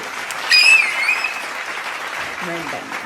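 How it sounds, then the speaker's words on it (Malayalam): A small group claps for Muhammad during a no-expression challenge at home, a brief burst of applause that fades, mixed with excited voices and a high squeal. "ആ മുഹമ്മദ് കയ്യടിക്ക്."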